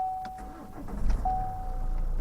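A 2014 Opel Insignia Innovation engine cranks briefly and catches, settling into a steady low idle. A faint electrical whine runs beneath it, recorded close by.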